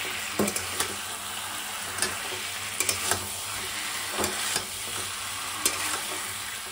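Mutton frying in a pan is stirred, a soft steady sizzle broken by several distinct spatula scrapes and taps spaced irregularly, close by and with no speech.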